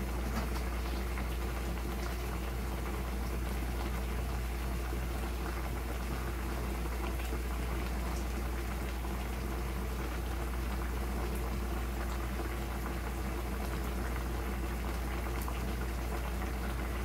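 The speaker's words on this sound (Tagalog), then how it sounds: "Pakuluan ko muna siya." Water with beef boils steadily in a pot, a continuous dense bubbling roar that stays even and close for the whole stretch without any talk.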